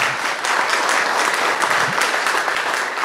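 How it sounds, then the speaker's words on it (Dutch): Applause from the audience at a Tilburg city-centre town discussion, a dense steady patter of many hands clapping that carries on evenly throughout, loud and close. "Applaus mag best."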